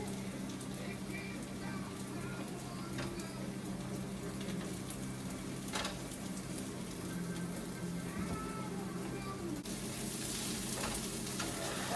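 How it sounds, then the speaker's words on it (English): Meat frying in a pan alongside onions, garlic and zucchini, giving a steady, even sizzle that runs throughout, close and moderately loud, with faint occasional clinks. "I guess I'm throwing the meat in there"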